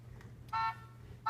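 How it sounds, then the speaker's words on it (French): An anti-theft alarm from an Android phone app sounds in short, faint electronic tonal bursts over a low background hum, one brief blast and the start of another. "Donc là on a l'alarme qui tourne encore et qui s'est arrêtée juste quand elle a reçu le mail."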